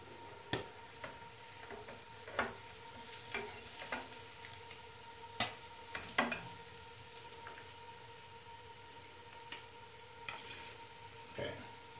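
Fish frying in hot oil, a soft steady sizzle with scattered sharp crackles and pops at irregular intervals, faint and without voices.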